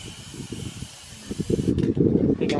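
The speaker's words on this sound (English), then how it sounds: "We got it all primed, and now we're getting it painted." A primed trailer is spray painted, and a steady hissing rush builds partway through and stays loud and close to the end.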